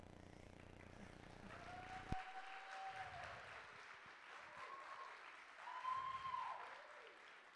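Audience applause at the opening ceremony of the 14th Annual Northwest Regional Skills Canada Alberta competition, a faint, steady patter of many hands that runs throughout, with a few whistle-like tones drifting over it.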